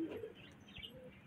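Pigeons settling down from the sky, giving soft, brief coos and faint chirps at close range over quiet surroundings, with no voices.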